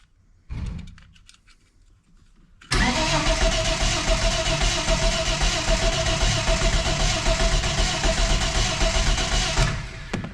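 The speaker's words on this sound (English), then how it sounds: "Starter motor's working." After a brief whir of the starter motor, an HQ Holden's engine catches and runs loud and steady, a dense close roar that continues for several seconds before easing off at the end.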